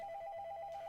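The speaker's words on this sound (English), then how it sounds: "I'm sorry for that phone ringing." A faint, steady warbling phone ring trills quietly for a second in the background.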